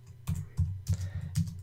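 Typing on a computer keyboard: several soft, close keystrokes in an uneven rhythm, quiet and alone.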